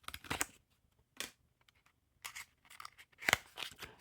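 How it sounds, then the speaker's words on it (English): A card opener slices the seal on a Bicycle playing card deck with a blue Victors back in a few crisp, close snipping and cracking bursts, separated by quiet gaps. "Now we'll just crack that seal, press down, grab one of our handy dandy card openers."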